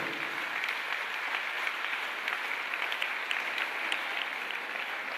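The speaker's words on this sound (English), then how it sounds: "And with a round of applause, let's give it to them." Sustained applause from an audience at a World Menstrual Hygiene Awareness Day and health screening event, steady dense clapping throughout at moderate level with no speech over it.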